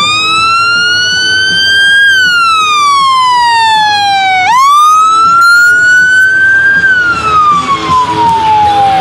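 Wailing fire engine siren at a fire brigade drill staged for a car fire, loud and close, sweeping up and down in long glides with a sharp restart midway, over a steady background rumble.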